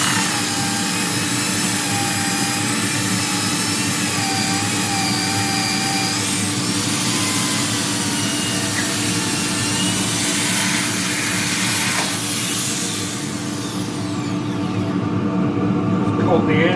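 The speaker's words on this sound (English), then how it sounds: "the angle drill is way the best tool if you're doing a lot of bowls." An angle drill sands a wide-rimmed wooden dish on a lathe, producing a loud, steady whining drone with a shifting pitch near the end, amid the constant hum of the spinning workpiece.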